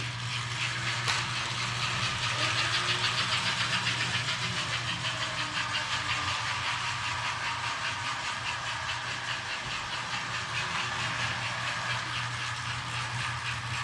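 A model train pulling two passenger cars climbs a grade on a tabletop layout, its motor giving a steady whirring hum and rattle that continues evenly at close range with no voices.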